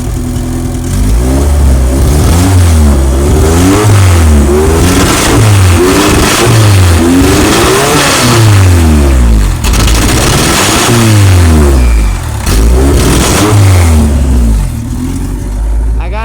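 A tuned Honda car engine with an LS VTEC setup is revved up repeatedly in quick, rising-and-falling blips, loud and close throughout with a rhythmic series of roughly a dozen pulls.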